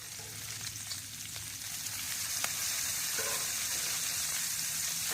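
Bacon sizzles and crackles on a Blackstone flat-top griddle, a steady bright hiss with faint spatters and occasional scraping, close and continuous with no talk.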